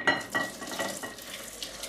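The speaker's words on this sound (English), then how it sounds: "And just stir that chocolate in so it melts." A spoon stirring chocolate into crème pâtissière in a pan, giving soft scraping strokes against the metal in an uneven rhythm with faint sizzling, close and fairly quiet.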